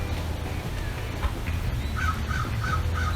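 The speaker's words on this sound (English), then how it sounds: "there's a seagull making fun of me" A seagull calls several times in quick succession, short repeated cries above steady outdoor background noise in Salem, Massachusetts.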